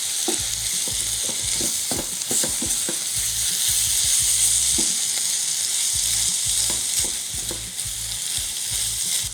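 Drained tuna being stirred into a pot of stewed tuna: a steady sizzle with rhythmic scraping and clinking of a spoon against the pot, close and continuous.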